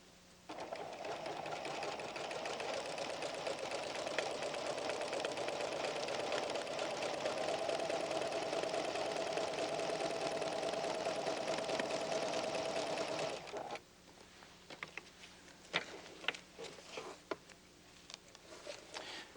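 A PFAFF creative 7550 sewing machine in darning position stitches around a design outline, its steady fast mechanical whir running continuously for about fourteen seconds before stopping, followed by scattered quieter clicks and handling noises.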